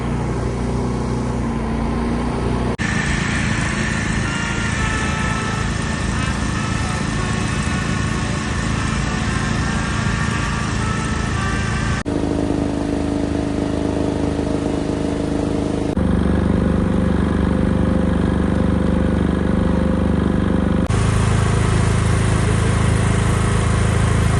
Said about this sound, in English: generators are at work because the whole area doesn't have the electricity